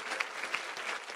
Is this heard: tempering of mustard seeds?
no